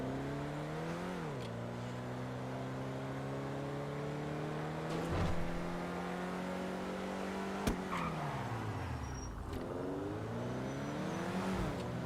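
A Ferrari Testarossa revs in a video game, its engine droning steadily, then dipping and climbing again through gear changes, moderately loud and alone.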